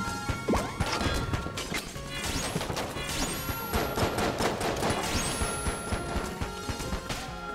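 Chaotic Enter the Gungeon gunfire: rapid, loud clusters of shots mixed with smashing, cracking impacts and crashes, continuous and busy throughout with no clear pauses.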